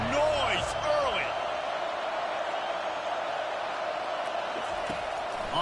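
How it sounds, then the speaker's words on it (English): A stadium crowd at a college football game roars in a dense, sustained wash of noise throughout, and a commentator talks over it. "This crowd bringing the energy and noise early."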